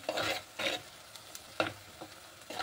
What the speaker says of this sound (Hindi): तो देखिए प्याज तो मेरी सॉटे हो चुकी है